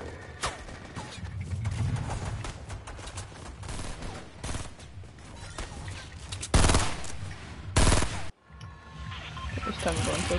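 Dense game gunfire in a Fortnite Battle Royale match on console, with rapid bursts and two loud, close blasts near the end over constant busy background action and some voice activity.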